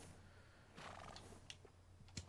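An Arabian horse in the video game Red Dead Redemption 2 gives a single faint whinny partway through, followed by a few soft taps and a louder thump near the end, over a low steady hum.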